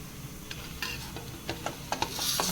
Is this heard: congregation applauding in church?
no